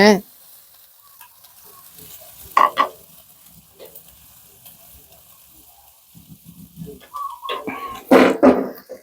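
Squid stir-frying with herbs in a pan after oyster sauce goes in, intermittent sizzling bursts and scraping stirs close by, separated by quiet gaps, with a few faint voice sounds.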